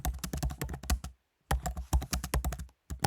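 Rapid keystrokes on a computer keyboard as a prompt is typed, two bursts of close, crisp clicking separated by a short pause.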